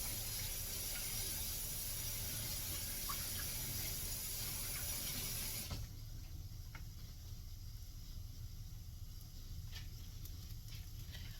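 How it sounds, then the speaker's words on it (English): Water runs from a kitchen tap while a hand is rinsed, a steady close hiss that suddenly drops to a quieter trickle about halfway through, then continues softly with no speech. "Let me rinse my hand."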